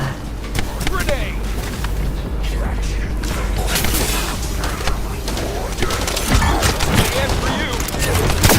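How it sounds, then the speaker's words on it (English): A grenade blast and bursts of gunfire in combat within The First Descendant, with thumps, crackling shots and mechanical noise filling a dense, loud battle mix while voices speak over it. "Grenade!"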